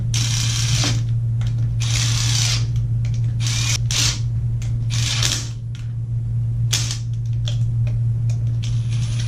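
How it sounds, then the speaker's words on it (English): A cordless gun runs down the clutch bolts on a Yamaha YXZ1000 during a Tubeworks clutch install, making repeated short whirring, ratcheting bursts close by over a constant low hum. "Run these down with a cordless gun, not over torque them."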